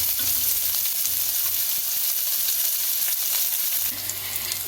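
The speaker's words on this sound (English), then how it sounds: "My onions have been frying there for around 2 minutes or so" Onions sizzle steadily in a hot pan, Trinidad-style home cooking before okra is added, a bright continuous crackle up close with a faint low hum entering near the end, no talk.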